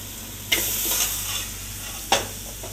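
Halloumi and paneer starter simmering in a pan, a steady broad sizzle throughout with two sharp scraping clinks of a utensil stirring against the pan.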